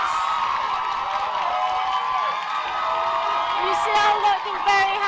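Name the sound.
rugby crowd cheering after a try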